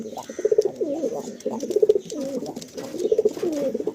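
Andhra pigeons cooing in a loft, repeated throaty coos in short bursts, close and fairly loud, with faint voices in the background.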